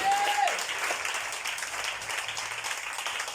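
A church congregation at a prayer gathering applauding loudly, a dense, sustained wall of clapping with crowd noise.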